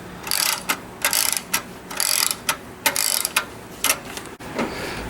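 A hand ratchet loosens a 10mm nut on a go-kart throttle cable, clicking in short bursts of rapid pawl ticks with brief pauses between strokes, close and clear with no talk.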